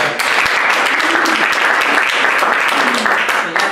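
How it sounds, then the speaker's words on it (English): Steady applause from a crowd, dense clapping filling the room without pause, with a few voices mixed in. "Give him a round of applause."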